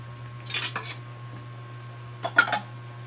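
Pieces of taro and eggplant drop into a cooking pot with two short clusters of knocks and clatters against the metal, over a low steady hum.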